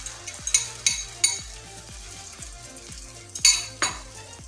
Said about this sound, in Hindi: अब इसमें मैं ये आमलेट इस तरह डाल दूंगी।